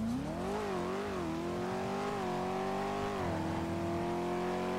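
A steady Dodge Hellcat engine drone in the video game GTA V, with rising and falling pitch as it revs and shifts, continuous and close, with no talking.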